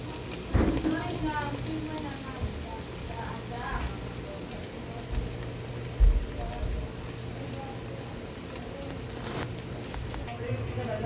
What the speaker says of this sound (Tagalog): nagsasangag ako ng sesame seeds kasi magluluto ako ng palitaw